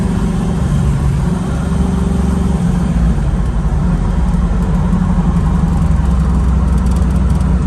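Loud, continuous engine and road roar from a 1969 Chevrolet Camaro with a T56 manual gearbox and new gears, heard from inside the car as it drives steadily along a road.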